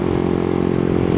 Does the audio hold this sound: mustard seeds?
no